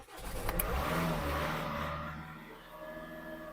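A Ford car engine revs as the accelerator pedal is pressed, a loud, close roar that swells then gradually eases to a steadier idle-like hum, with no talking.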